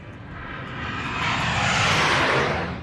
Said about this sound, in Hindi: सबसे पहले हम आपको दिखाते हैं सुखोई लड़ाकू विमान की गर्जना